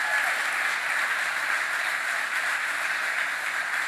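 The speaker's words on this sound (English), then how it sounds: "Let's give her a round of applause." Audience applause fills a large hall at a construction announcement event in Queens, New York, a steady, dense wash of clapping that holds at an even level for the full stretch, with no voices over it.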